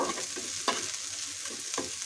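Soft frying sizzle of jackfruit seeds in mustard oil, with a few scraping stirs, close and quiet, brief and without speech.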